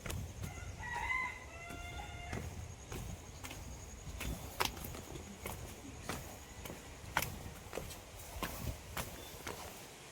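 A rooster crows once early on, moderately distant, followed by scattered footsteps and faint outdoor ambience in the Kelshi village market area.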